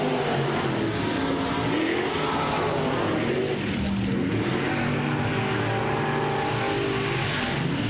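Race cars circle the track at I-37 Speedway, a continuous roar of engines heard from a distance, steady and dense without distinct passes.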